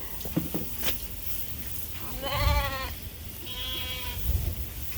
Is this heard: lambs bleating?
yes